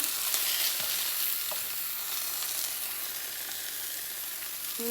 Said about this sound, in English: I can get my little spatula under there.